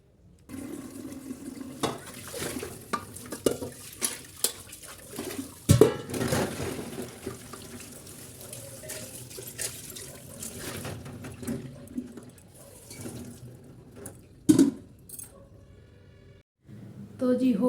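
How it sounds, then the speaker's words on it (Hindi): Running water from a sink tap while dishes are washed at night in a home kitchen, with intermittent splashing, clinks and bumps of utensils, a loud clatter partway through, and occasional faint talk. "बस ये बर्तन बचे हैं, इनको साफ़ करके भी चलते हैं।"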